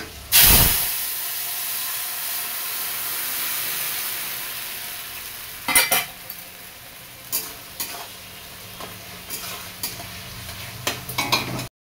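Masala of onion, tomato, ginger, garlic, dried chilli and cumin powder sizzles in a hot pan with a steady hiss, broken by repeated scraping and clinking as it is stirred.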